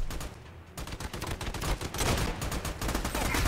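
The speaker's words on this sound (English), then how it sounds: "Shotgun, motherfucker." Shotgun blasts and heavy gunfire in the co-op shooter game Army of Two, a loud, continuous barrage of overlapping shots that thickens and grows denser toward the end.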